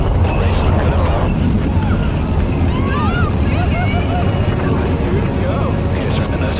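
Virgin Galactic spaceplane rocket motor firing, a loud, constant roaring rush with heavy wind buffeting, overlaid by clipped radio voices and chirping transmission tones.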